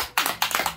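A short burst of several people clapping at close range, sharp irregular claps over a brief moment indoors.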